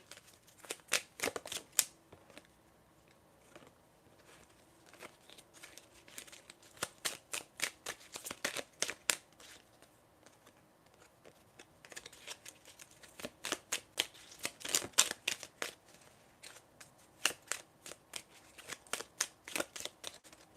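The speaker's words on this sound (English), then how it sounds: "my cards keep falling all at once" Tarot cards being shuffled and handled, giving bursts of crisp riffling flutters that come and go in clusters, with quiet pauses between and a few light slaps of cards falling, close and fairly soft.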